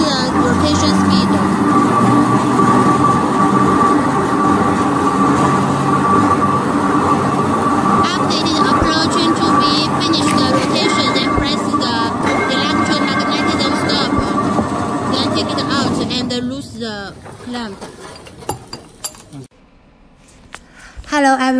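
A new wood rotary cutting machine runs steadily, turning the log automatically with a loud continuous mechanical drone and whine that carries on, then drops away near the end as the machine winds down.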